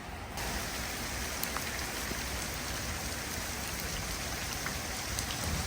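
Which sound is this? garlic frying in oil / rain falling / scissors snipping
rain falling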